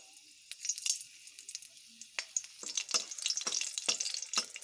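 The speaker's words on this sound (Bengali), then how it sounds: "আমি এখানে 2টো কাঁচা লঙ্কা ও গোটা গরম মশলা ফোড়ন দেব" Green chillies and whole garam masala, cardamom and cinnamon, spluttering in hot oil in a kadai, crackling in quick irregular pops and sizzles that build louder toward the end, close up.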